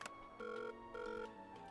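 A telephone rings in the video game Surgeon Simulator, a loud electronic warbling ring in two bursts over steady background music, with no talk.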